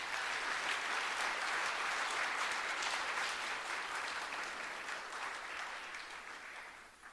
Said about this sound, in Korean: 여러분 박수로 건강을 축복해 주시기 바랍니다.